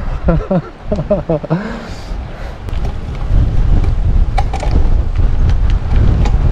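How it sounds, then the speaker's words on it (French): Strong wind buffets the microphone in a steady low roar on a gravel ride at the foot of Mont Ventoux, with someone speaking briefly at the start before the gusts dominate. "Oh là là là là là, le vent."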